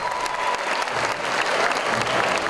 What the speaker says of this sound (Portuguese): Na plateia, uma multidão e muitos aplausos.